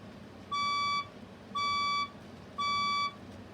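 A building fire alarm sounds three evenly spaced, identical electronic beeps, each about half a second long, clear and alone against a quiet background hum.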